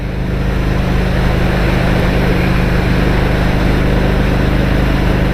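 Steady, loud engine drone with constant low humming tones and wind rush from a 2003 VT750 Shadow Spirit motorcycle cruising at highway speed, unbroken throughout.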